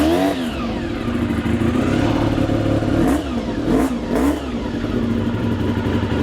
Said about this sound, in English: give me a couple more revs